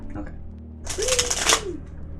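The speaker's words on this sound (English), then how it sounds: "Oh, come on, you didn't even shuffle properly, you bad cards." A quick riffle of shuffled oracle cards, a short crisp burst of about a second, with a faint voice murmuring around it.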